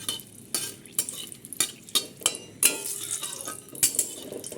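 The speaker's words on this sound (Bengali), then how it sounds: "এবার আমি মশলাটা ভেজে নেব ভালো করে" Spices fry in a pan while a utensil stirs them, giving a run of sharp scrapes and knocks against the metal about every half second over a soft, low sizzle.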